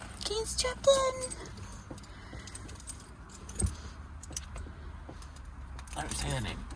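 Keys jingle and clink in short metallic bursts near the start as they are handled, with a person talking nearby and some faint background noise.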